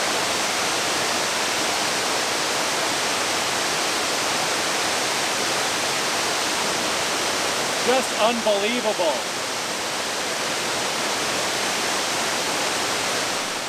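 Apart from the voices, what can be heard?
waterfall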